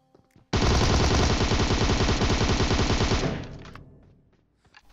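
A Tommy gun in PUBG Mobile fires one long rapid burst of about three seconds. The burst is loud and close, then its echo fades away.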